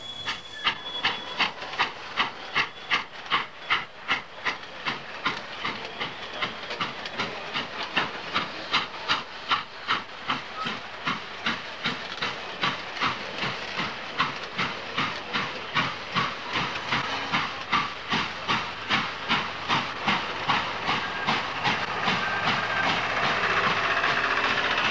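Steam locomotive 611 backs down a mountain grade, its rhythmic exhaust chuffs and hissing steam pulsing steadily for the whole stretch, close and loud with no voices.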